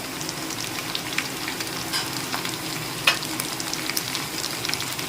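Ginger, turmeric, Kashmiri chilli powder and cumin powder frying in a pan while being stirred, with a steady close sizzle, light scraping ticks and one sharp clink, and no voices.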